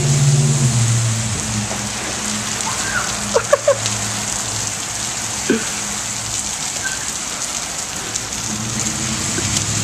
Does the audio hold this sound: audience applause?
no